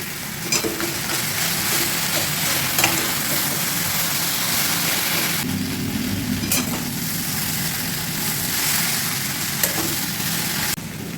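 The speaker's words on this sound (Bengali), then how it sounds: "ভাজা অনেকটাই হয়েছে এবার আমি মাছটাকে ভেঙে দেবো" Rohu fish pieces fry with ginger paste in a pan for a village-style shukto while a spatula stirs and breaks them up. A steady, close sizzle runs throughout, punctuated by occasional scraping strokes, with no talking.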